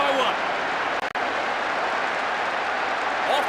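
In the PES 6 football game, a stadium crowd roars after a goal, a broad, steady wash of cheering and noise with a short break near the middle.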